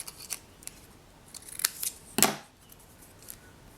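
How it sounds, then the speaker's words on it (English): Scissors trimming a sheet of paper in half for a card kit, a few quiet snips with one sharper cut near the end, no voices. "And we're going to take and trim this in half."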